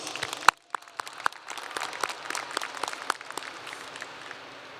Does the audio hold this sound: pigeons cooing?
no